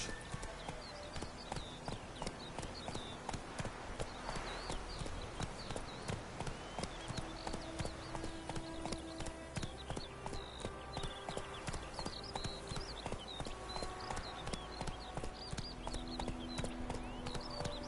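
Roach, a horse in The Witcher video game, clip-clops along with steady, continuous hoofbeats throughout, layered over ambient game sound and light background music, with no talking.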